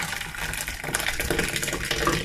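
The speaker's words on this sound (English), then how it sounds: "So I'm going to pour the second one that I blended." Blended pepper mix for Nigerian jollof rice is poured into a cooking pot, giving a steady thick liquid gush and splatter that runs throughout, loud and close, with no talking.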